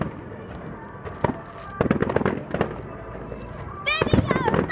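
Fireworks burst and crackle in a series of sharp pops of varying loudness. People nearby talk and exclaim between and over the bangs.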